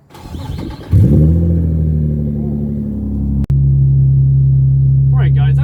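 A Nissan 350Z engine cold-starts: a brief cranking whir, then it catches and settles into a loud, steady idle rumble, with a short dropout partway and a voice speaking briefly near the end.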